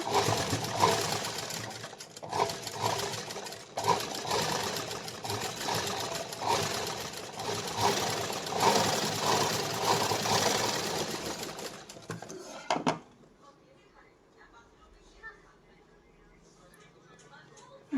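A sewing machine stitches a blouse made from a Kaatpadar saree, running with a dense, steady mechanical whir and pulses for about thirteen seconds. It stops abruptly and leaves near-silence, with only faint handling noise after.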